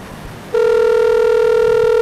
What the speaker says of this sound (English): we're calling Yuki Luke